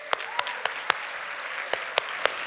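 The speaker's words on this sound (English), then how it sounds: "Give us a round of applause." Scattered, sparse clapping from a small audience at a talk, a few distinct individual claps spaced irregularly over a quiet room murmur.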